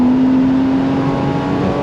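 A Porsche Boxster's flat-six engine drones loudly and steadily from inside the car, holding a constant tone with no speech over it.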